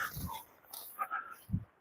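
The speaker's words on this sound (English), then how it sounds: "on the public footpath and they're barking at you" Farm dogs off the lead on a public footpath bark at passing walkers, a couple of short barks and whimpers at moderate distance amid outdoor background noise.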